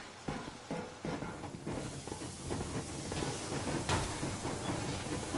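A steam train in motion in the video game Metro Exodus, a steady loud rumble and hiss with rhythmic rail clatter running throughout.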